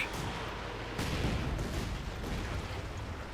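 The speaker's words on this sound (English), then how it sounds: "Katyusha unleashing another barrage." A Katyusha rocket artillery barrage in Company of Heroes 2 rumbles as a continuous, distant roll of blasts. A few sharper bursts rise above the low, muffled din.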